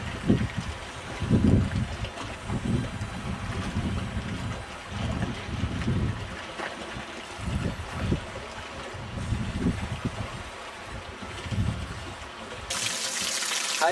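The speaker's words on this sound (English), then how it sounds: "Here you see spring water coming out of this cast iron pipe." Spring water splashes steadily out of a cast iron pipe in an outdoor setting, a continuous close rushing and gurgling with uneven surges that carries on throughout.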